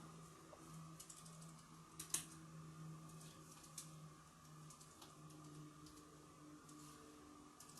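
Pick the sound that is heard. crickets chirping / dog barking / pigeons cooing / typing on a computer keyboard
typing on a computer keyboard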